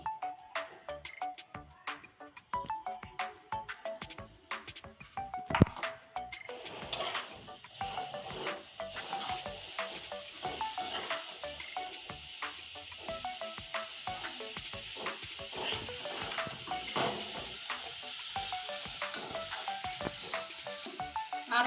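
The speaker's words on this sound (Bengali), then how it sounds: "নারকেলটা আমি সুন্দর করে ভেজে নেব আর এখানে আছে গুড় এটাও আমি দিয়ে দিচ্ছি" Grated coconut frying with jaggery in a pan, a bright crackling sizzle that starts sparse with clicks and thickens into a denser continuous hiss, close and moderately loud, no talk.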